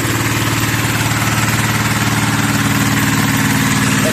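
A four-horsepower tractor engine drives a water pump on a 12-metre-deep well, running at a steady idle with a loud, close, continuous chugging drone and no talk.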